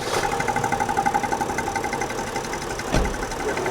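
A diesel engine idling with an extra oil filter fitted, a steady close mechanical clatter with a rhythmic knocking pulse and one sharp metallic clunk partway through.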